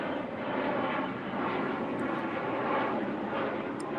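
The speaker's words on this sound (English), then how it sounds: "There's an airplane going over." An airplane passes overhead outdoors beside a fire, a steady, broad, rumbling drone that holds at an even level throughout with no other sounds over it.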